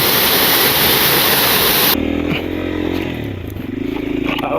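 A motorcycle rides a rough mountain trail, starting under a loud rushing wash of wind or water noise that cuts off abruptly, leaving the engine revving and labouring up close with rattling over rough ground.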